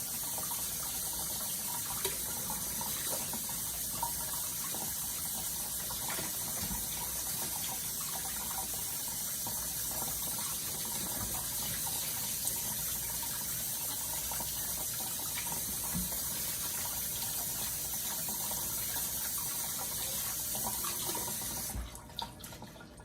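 Tap water runs continuously into a sink as eggplant is rinsed, a steady close hiss and splash lasting over twenty seconds before it cuts off at the very end.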